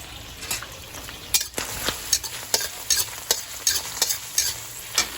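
Garlic frying in oil in a pan, a continuous close sizzle with rhythmic scraping strokes of a spatula roughly every half second.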